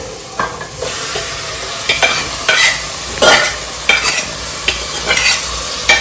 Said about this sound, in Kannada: ಸೊ ಇದನ್ನ ಸ್ವಲ್ಪ ಫ್ರೈ ಮಾಡ್ಕೊಳ್ಳಿ.